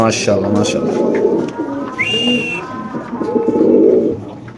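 Spanish pigeons cooing close by, low rolling coos repeating through the clip alongside a brief whistle-like bird call, with people talking over them.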